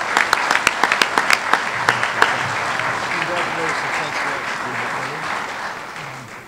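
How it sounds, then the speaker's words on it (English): Applause for a girls soccer team at a fall sports banquet: early sharp individual claps quickly swell into a loud, sustained crowd ovation that holds steady, with voices mixed in, then slowly fades. "Another round of applause for our GAV girls soccer team."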